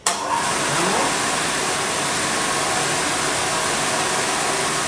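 A hydraulic test rig's electric motor runs with a steady, loud broadband whir, starting abruptly and holding a constant level throughout, with no voices.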